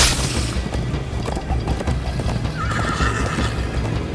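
A horse gallops with rapid clip-clop hoofbeats in Minecraft: Story Mode, and a loud neigh breaks out partway through over a rushing, busy backdrop.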